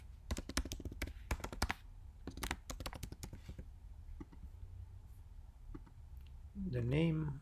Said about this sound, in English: Let's start writing text in these inputs one by one.